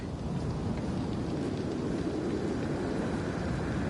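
Thunderstorm in a video game: steady, dense rain and low rumbling thunder roll on without a break, loud and close, with no voices.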